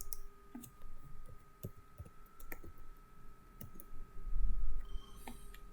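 Computer mouse clicks and keyboard shortcut keystrokes during 3D modeling work, heard as sparse, sharp, close clicks and key taps scattered over a quiet background hum.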